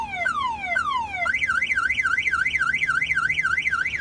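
A Jeep Gladiator's car alarm blares loudly: repeated falling sweeps, then a fast rising-and-falling warble that keeps cycling without pause.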